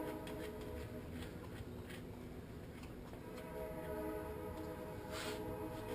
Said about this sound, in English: Choo-choo train going through town.